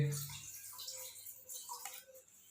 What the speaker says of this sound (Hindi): तो सबसे पहले हम इसमें 1 गिलास पानी शामिल करेंगे।